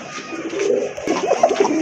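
A pair of sky-blue Naira pigeons coo softly and repeatedly at close range, their low murmuring calls overlapping in a steady, continuous stream.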